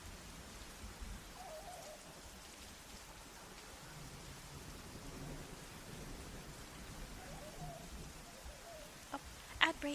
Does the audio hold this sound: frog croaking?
no